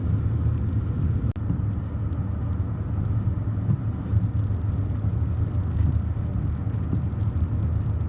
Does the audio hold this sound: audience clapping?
no